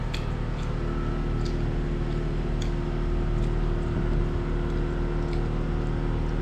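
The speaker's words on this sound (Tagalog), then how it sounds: "Maingay po yung motor." An old man's motorcycle engine drones loud and steady nearby, a rough continuous rumble with a low throbbing hum that never lets up, with faint ticks and clicks scattered over it.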